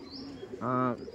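A single short, throaty pigeon coo rises near a home pigeon loft, close and clear for a fraction of a second amid a faint murmur of background sound.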